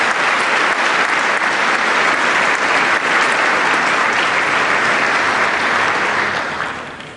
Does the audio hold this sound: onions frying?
no